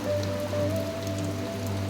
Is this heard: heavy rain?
yes